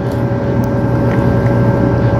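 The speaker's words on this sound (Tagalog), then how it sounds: "Tatlo siguro yung tugboat mag-assist niya." Tugboats assist a ship in strong wind, their engines holding a loud, steady low drone with a constant mechanical hum and no speech.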